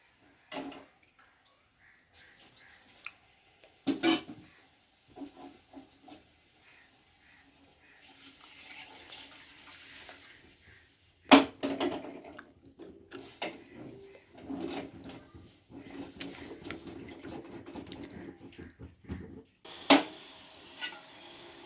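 Milk mixture for malai kulfi is stirred slowly in a pot, giving intermittent scrapes and clinks from the utensil in scattered bursts separated by near silence.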